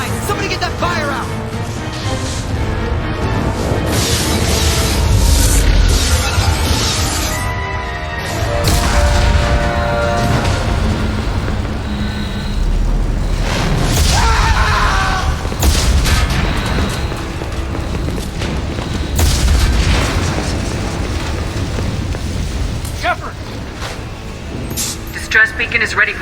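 The starship Normandy under attack in the video game Mass Effect 2, with deep booms and rumbling blasts rolling almost continuously while voices call out damage reports and alarms and clatter sound through the chaos.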